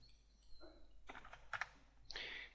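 Quiet keystrokes on a computer keyboard tap out a few short clustered presses in a calm room, faint and close.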